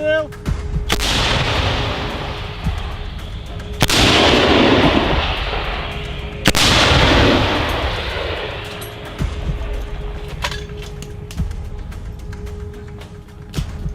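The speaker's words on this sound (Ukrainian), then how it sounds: "Постріл!" Heavy artillery fire on the Bakhmut front booms several times, loud and close, each blast rolling into a long rumble over a steady engine-like drone.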